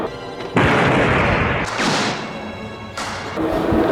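A voice imitates gunshots in a mob-era scene, producing three loud bursts of harsh, noisy blasts, each sustained and separated by short pauses.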